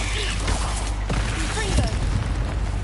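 Spell blasts from Bombarda and Confringo in the Hogwarts Legacy video game, two muffled booming bursts about a second apart, mixed with game noise and a voice speaking over them.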